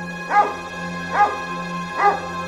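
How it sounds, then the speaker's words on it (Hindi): Three loud, evenly spaced barks from a dog, close and clear over a steady low hum. "वही डरावना कुत्ता फिर से उस पर भौंकता हुआ दौड़ता है"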